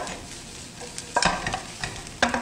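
Shrimp stir-fried in a pan for shrimp fried rice, a continuous sizzle punctuated by sharp scraping strokes of the spatula every second or so, close and loud.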